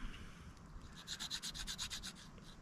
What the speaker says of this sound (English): All I'm doing is getting shavings from the Ferro-rod, get the magnesium